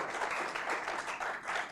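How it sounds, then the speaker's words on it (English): Audience applause after a guest speaker, Dr. Skip York, is thanked at a talk on energy security; brief steady clapping from a crowd at moderate distance, fairly quiet and continuous. "Please give Dr. York a round of applause."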